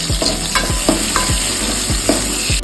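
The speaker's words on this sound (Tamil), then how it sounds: "இப்போ வெங்காயத்தை போட்டு பொன்னிறமாக வதக்கணும்" Onions frying loudly in hot oil for a crab gravy, with a constant close sizzle and rhythmic scraping strokes of a stirring spoon roughly every third of a second.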